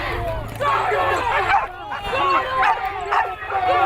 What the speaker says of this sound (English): Get your fucking dogs out of here!